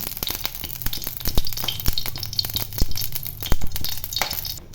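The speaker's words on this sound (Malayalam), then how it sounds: "നെയ്യ് അത് തൂമിക്കാൻ വേണ്ടിയിട്ട് കുറച്ച് നെയ്യൊക്കെ ഒഴിച്ചു കൊടുക്കാം" Ghee heating in a pan for tempering jeera kanji, a close sizzle and crackle with sharp pops and spatters scattered throughout, loud and busy with no voice over it.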